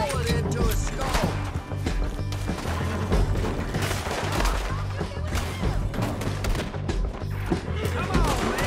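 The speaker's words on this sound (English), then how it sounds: "Come on, man, shoot him!" Red Dead Redemption 2 gunfight with dense, overlapping gunshots and impacts over a busy mix of music and effects, loud and continuous throughout, with voices shouting through the action.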